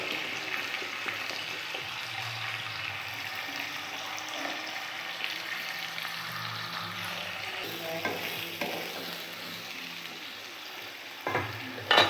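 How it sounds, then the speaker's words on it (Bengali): Potatoes and eggplant fry in oil for a puti fish curry, producing a steady, soft, close sizzle that runs unbroken for the whole stretch, with a few faint stirring scrapes and a small clatter at the very end. "আলু আর বেগুনগুলো একটু ভালো করে ভাজা হয়ে যাক।"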